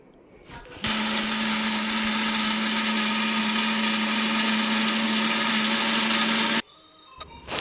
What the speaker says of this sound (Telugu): దీన్ని సైడ్ పెట్టేసుకొని ఇప్పుడు మనం మిక్సీ చేసుకుందాం.